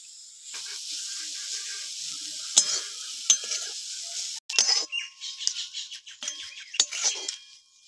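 Kharkol leaves fry in a pan with a bright, steady sizzling hiss, broken by sharp stirring scrapes and clatters that come faster toward the end.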